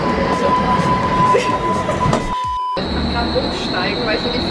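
Interior of a moving subway train, its steady rumble and wheel noise filling the car, a brief dropout midway before a high whining tone takes over; a voice talks over the ride.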